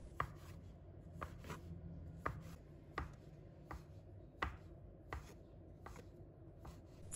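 Knife chopping a rolled log of sweet potato and taro dough into small pieces on a cutting board, a steady series of about a dozen sharp, close knife taps at an even rhythm.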